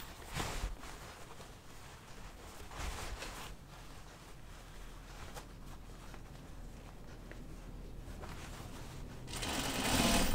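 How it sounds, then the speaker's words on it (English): A sewing machine stitches down the hem of stretch pull-on jeans, running in short bursts and steadier runs with brief pauses, close and fairly quiet, with no talking. "I'm being really careful not to pull on this hem as I stitch it down"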